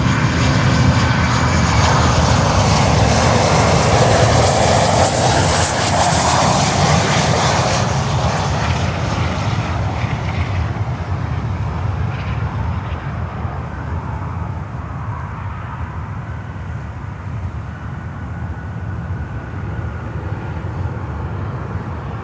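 A Saab aircraft passes over Miami airport with a loud, broad engine roar that peaks early, then slowly fades as it moves away.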